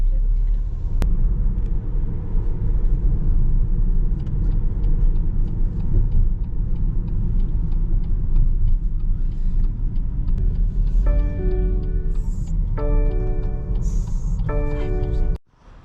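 A taxi's engine and road rumble roll steadily through congested city-centre traffic in Antalya, with a horn sounding in repeated bursts near the end and voices talking over the cabin noise.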